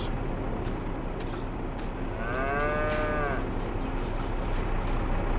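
A cow lets out a long, clear moo in Farming Simulator 22, amid steady outdoor background noise, with faint clicks and shuffling nearby.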